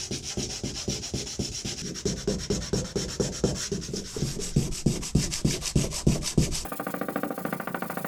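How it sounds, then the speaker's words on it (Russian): Hand sanding of scratched car body paint around a wheel arch with sandpaper, fast rhythmic back-and-forth rasping strokes, close and loud, ending in a brief quieter scrape. "Также аккуратно наждачкой нам нужно убрать вот эти вот задирчики скола"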